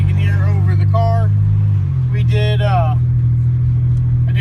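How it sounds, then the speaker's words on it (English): A car with a holed muffler drives along, its engine a loud, constant low drone throughout, with a voice speaking over it. "I did poke a hole in my muffler, so it is a little bit loud"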